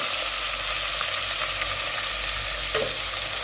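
Garlic sautéing in added cooking oil in a pan, a steady close sizzle with occasional stirring scrapes, no talk.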